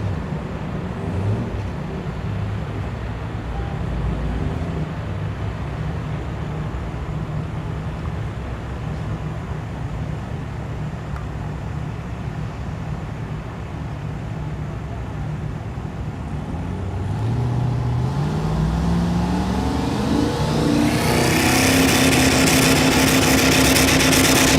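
Drag race cars, a Fairmont and a Chevy, launching side by side at a Thunder Valley drag strip in Noble, Oklahoma, after a long rumbling idle, engine roar swelling and rising in pitch as they pull away, loud and close.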